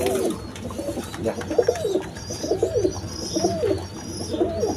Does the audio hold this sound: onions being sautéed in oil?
no